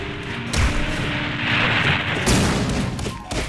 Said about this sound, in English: this shit is just explosion on explosion on explosion